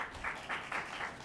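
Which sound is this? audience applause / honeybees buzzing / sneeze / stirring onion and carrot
audience applause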